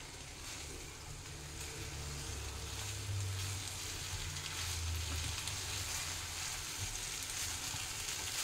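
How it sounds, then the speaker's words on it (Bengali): Mixed vegetables with bell peppers tossed in a hot pan, giving a soft continuous sizzle with faint stirring under a low steady hum, fairly quiet and close. "সবগুলো আমি একটু নাড়াচাড়া দিয়ে নেব।"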